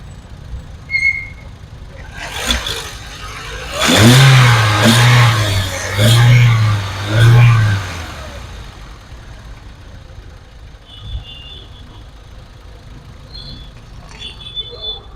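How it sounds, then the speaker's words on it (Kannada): A 2011 Volkswagen Vento petrol engine idling, then revved in several rising bursts before settling back to a steady idle, heard close and loud with no talking. "ಇಂಜಿನ್ ಸ್ಟಾರ್ಟ್ ಮಾಡಿದ್ದೀನಿ. ನೀವು ನೋಡ್ಬೋದು ಸೌಂಡ್, ಇಂಜಿನ್ ಸೌಂಡ್ ನೋಡ್ಕೊಳ್ಬೋದು."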